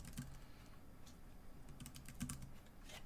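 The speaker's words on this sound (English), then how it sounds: "we are now using the mouse and the keyboard on the PC" Keys clacking on a Rapoo 9000M wireless keyboard used with a PC, a quick irregular run of soft close taps, quiet and without talk.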